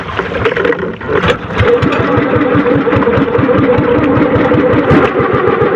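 A fishing boat's engine catches and settles into a steady, rapid chugging idle, loud and close throughout, with no voices.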